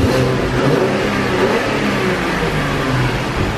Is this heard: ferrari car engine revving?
yes